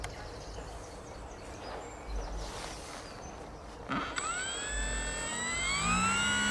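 A radio-controlled model airplane engine on a test flight rises from quiet outdoor background into a high, steady whine that climbs in pitch over its last few seconds.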